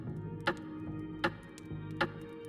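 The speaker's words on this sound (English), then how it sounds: "I think this is cuckoo clockish." A cuckoo clock ticking in the co-op puzzle game We Were Here Together, three slow, evenly spaced clicks over a steady tonal music bed, close and moderately loud, no talk.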